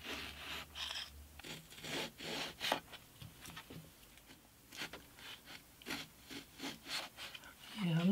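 A Lie-Nielsen 100 small block plane shaves a spruce guitar brace on an acoustic guitar top in a series of short rasping strokes with pauses between them, close and quiet.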